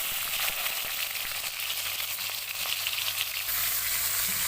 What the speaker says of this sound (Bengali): তো আমগুলি এখন দিয়ে দিচ্ছি